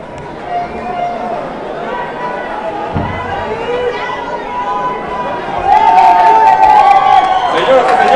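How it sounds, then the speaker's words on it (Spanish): A crowd in the Arena Coliseo lucha libre arena chatters and cheers, then swells into louder applause and shouting partway through, with voices carrying across the hall. "el aplauso para Herodes"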